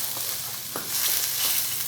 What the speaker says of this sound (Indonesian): serai, kemudian daun salam, daun jeruk, kita gongseng.